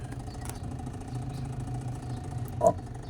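A washing machine motor with a broken, leaking gear gives a low, steady hum that drones quietly throughout, with a brief faint click near the end.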